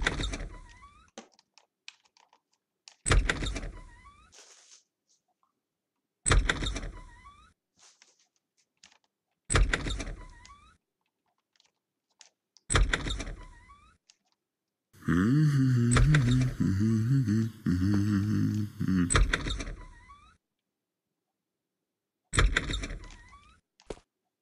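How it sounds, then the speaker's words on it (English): Door-opening effect in a Thief 3 editor map, tied to a kicking animation, plays as a string of sharp thuds and clicks repeated every few seconds, with one longer rattling, grinding stretch midway. "opening door sound will be played."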